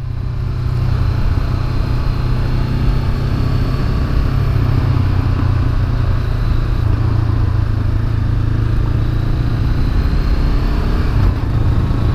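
A motorcycle being ridden on a street, with a continuous, loud engine hum and wind noise that hold steady throughout.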